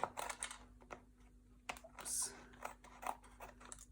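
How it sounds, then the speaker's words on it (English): Several crisp snipping sounds from scissors cutting through cardstock for handmade cards, close by, irregular and short, with light handling noise between cuts. "just literally take a pair of scissors and cut"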